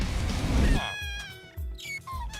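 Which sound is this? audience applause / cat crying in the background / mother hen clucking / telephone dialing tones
cat crying in the background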